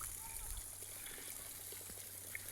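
Steady broadband rush of a waterfall in the Beyoğlu highland, a continuous even wash of falling water with a low hum underneath, constant throughout with no pauses.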